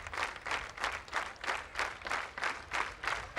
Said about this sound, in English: clapping, rhythmic clapping has been going on from the Lewiston side for one of their fallen heroes and teammates